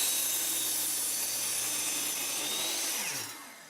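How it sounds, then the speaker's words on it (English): A miter saw cuts through pressure-treated 2x4 lumber with a sustained high whine and grinding bite into the wood, then the blade spins down toward the end; no speech. "all of my square cuts on all of the 2x4s and 4x4s are going to be made with a miter saw"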